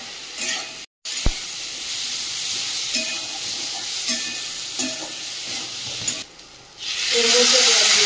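Fried potatoes go into a sizzling, well-cooked spice masala in a pan. A loud continuous hiss and sizzle comes from close by, with a brief cut-out near the start and a louder surge of frying toward the end.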